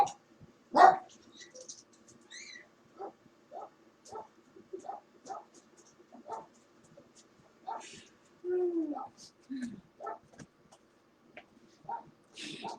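Several dogs bark in short, scattered yips and woofs, some near and some farther off, with a few whimpers between them and occasional talking mixed in.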